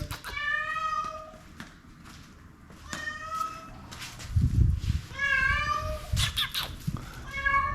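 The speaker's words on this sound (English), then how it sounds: "a random cat just walked into the garage" A stray cat meows repeatedly inside a home garage, with loud, close, drawn-out calls spaced through the clip and some low thumps and rustling of someone moving nearby.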